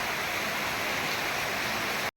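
A village river in heavy monsoon rain, flowing as a steady, dense broadband rush with no break, loud and continuous until it cuts off abruptly.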